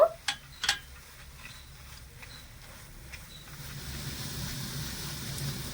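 Melted sugar and milk powder being stirred in a pan, opening with a few sharp clinks of the spoon, then a low, faint bubbling and scraping that grows slightly toward the end, with no voices.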